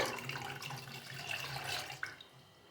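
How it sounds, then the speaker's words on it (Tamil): Water poured into mashed dal for paruppu kadayal, a steady soft splashing pour heard faintly and close, with no talk over it. "இதில் நம்ம தேவையான அளவு தண்ணி ஊற்றிக்கலாம்"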